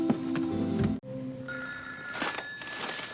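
A telephone rings indoors in a domestic drama scene, its bright tonal bell pattern sounding for about a second, breaking briefly, then ringing again through the rest of the clip at moderate, close volume.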